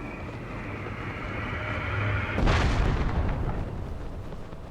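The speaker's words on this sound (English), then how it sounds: "Such a slow, old-fashioned cannon." An old-fashioned cannon in Zelda: Tears of the Kingdom fires once, a single low boom that swells briefly over a constant rumbling game ambience.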